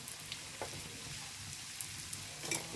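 Kottappam frying in hot oil gives off a steady, fairly quiet sizzle, with a few sharper crackles and pops scattered through it.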